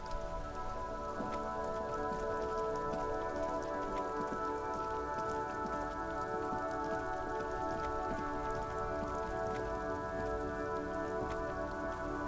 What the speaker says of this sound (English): Stuck in the rain in a traffic jam